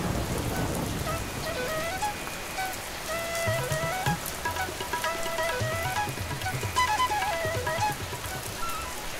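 Steady rain patters across a surface throughout, with soft tonal music playing over it.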